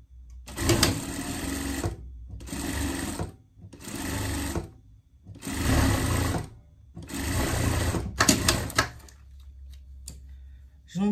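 A sewing machine stitches the hood of a bear-style pet pajama in short close bursts, several runs of rapid whirring separated by brief pauses.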